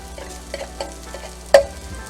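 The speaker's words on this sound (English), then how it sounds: "Then we add a little bit more olive oil to this. And you just want to saute this for about a minute." Mushrooms sautéing in olive oil in a pan, with soft stirring scrapes across the whole stretch and a single sharper clatter about halfway through. No talking.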